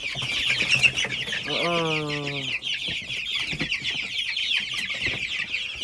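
Chickens cluck and chatter nearby over constant high chirping of chicks and goslings, with one drawn-out squawking call partway through.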